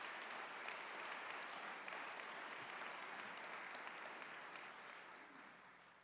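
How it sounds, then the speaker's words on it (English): Sustained audience applause fills a university fall convocation hall, a dense steady wash of clapping that fades slightly toward the end. "Please give yourselves a big round of applause for these accomplishments"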